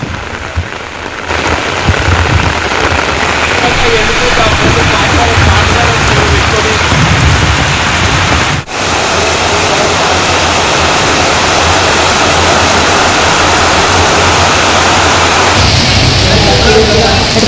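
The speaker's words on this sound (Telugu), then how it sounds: "హైదరాబాద్ లో ఒక్కసారిగా వాతావరణం మారిపోయింది. వర్షం మొదలైంది." Rain pours over Hyderabad in a sudden downpour, a loud, dense, continuous hiss of drops hitting surfaces that holds steady throughout.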